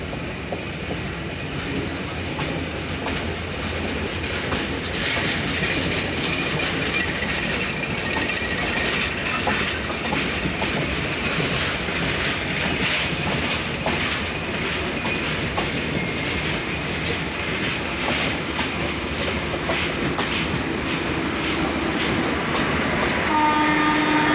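The Intercity 806 Chilahati Express on the Chilahati to Dhaka route at Saidpur makes a loud, continuous rumble with rhythmic clattering wheels, and a horn sounds toward the end.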